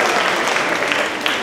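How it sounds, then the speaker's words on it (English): An audience applauds steadily, a dense wash of many hands clapping at once, loud and close. "let's give a round of applause for Arthur and Paul Williams."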